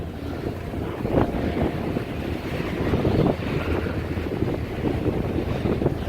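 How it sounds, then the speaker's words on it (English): Strong wind buffets a fishing boat at Buoy 10, a loud continuous rumble of gusts and microphone wind noise with swells of intensity, no voices. "So windy."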